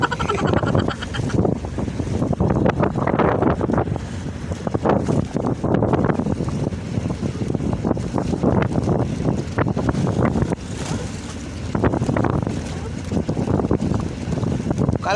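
Strong wind buffets the microphone continuously on a giant squid fishing trip, a loud rumbling roar with gusty surges throughout, and faint voices now and then beneath it.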